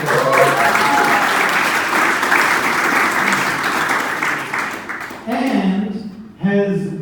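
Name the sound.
audience applause for a speaker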